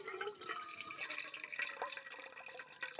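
Water runs from a cheap plastic water bag outdoors in a forest camp, a steady close trickle and splatter continuing for about three seconds with no one talking.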